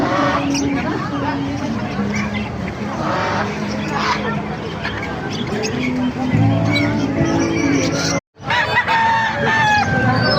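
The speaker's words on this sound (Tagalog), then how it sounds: "Maraming manok kayo dito." A rooster crows among clucking fowl, with chatter and outdoor noise of an animal market throughout and a brief dropout near the end.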